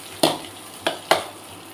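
Onions sauté in a pan for a Tamil chena (yam) stir-fry, with three sharp stirring scrapes over a low, steady sizzle.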